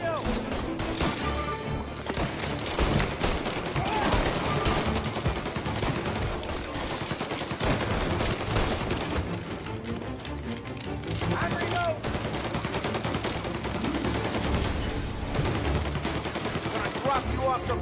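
Dense, continuous machine-gun fire in a shootout in Mafia, loud and relentless throughout, mixed with shouted voices and game noise.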